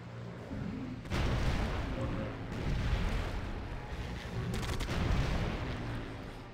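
Battleships taking artillery fire in Civilization Revolution, a run of heavy booming shots and explosions in quick succession over a steady rumble, loud and close, with no talk.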